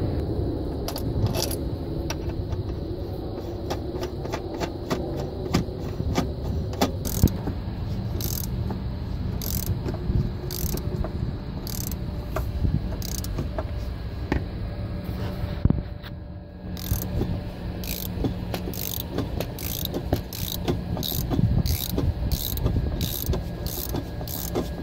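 Puller tool with nut and bearing extracting an EGR valve from a Ford 6.4 Powerstroke diesel engine, a long run of repeated ratcheting clicks and metallic creaks close by, steady and rhythmic throughout.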